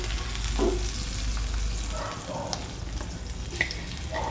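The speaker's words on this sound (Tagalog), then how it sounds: "igigisa na muna natin yung sibuyas. Haluin lang po natin ang sibuyas hanggang sa mag-brown ito" Onion sautéing in a pan for chicken oyster sauce with pineapple, with a steady sizzle and stirring scrapes that continue throughout and include a few soft utensil clinks.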